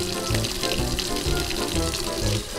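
Water runs from a bathroom tap in soft, uneven gushes while hands are washed, faint and close, with a little speech.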